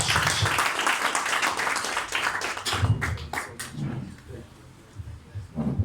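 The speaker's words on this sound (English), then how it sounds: "let's give him a huge round of applause" An audience at a talk breaks into dense applause that holds for a few seconds, then breaks up into sparser separate claps before fading out.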